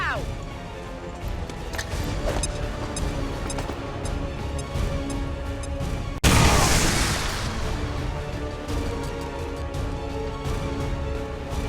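A frag grenade in XCOM 2 goes off midway as one sudden loud blast with a rushing burst, then a ringing decay trails off under in-game voices and combat noise.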